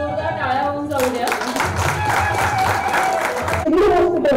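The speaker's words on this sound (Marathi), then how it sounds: "जोरदार टाळ्या होऊन जाऊ द्या." An audience at an award ceremony in Nashik claps loudly and continuously, the applause mixed with music and a voice over a hall sound system.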